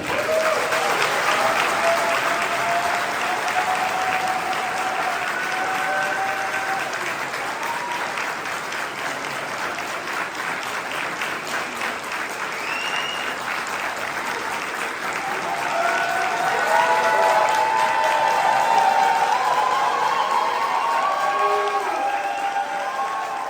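A large audience at a Paris press conference applauds loudly and at length, a dense, sustained wash of clapping from many hands that swells again toward the end, with faint crowd voices and scattered cheers underneath.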